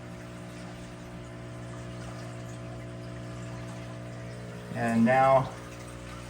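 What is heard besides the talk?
water pump cycling water in a plant tank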